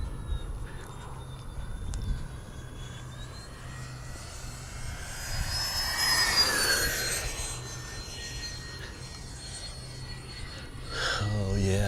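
Freewing 80mm A-10 RC jet passes overhead with a steady ducted-fan whine that swells to a peak midway and then fades, while someone talks over it outdoors.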